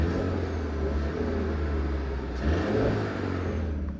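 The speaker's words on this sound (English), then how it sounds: "Can y'all hear the turbo?" A new car's engine revs up with a low rumble and rising whir, a faint turbo whistle hinted beneath, fairly close and steady with no talk.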